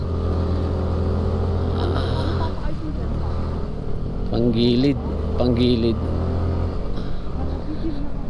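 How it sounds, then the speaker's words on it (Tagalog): A motorcycle engine labours uphill on a mountain road near Lake Tabeo in Kabayan, Benguet, a steady close drone with harmonic whine that shifts pitch as the rider strains, while someone talks over it. "Grabe, hirap ang aking motor."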